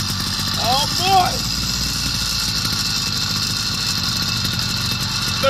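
A YD 100 engine on a motorized chopper bicycle idles with a steady, close buzzing chug, while someone talks over it.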